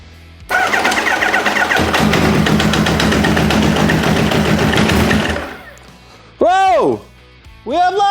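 A Kawasaki GPZ900R motorcycle with carburetors and choke on fires up into a loud, steady running engine for about five seconds, then cuts off, followed by two short, sharp revving blips.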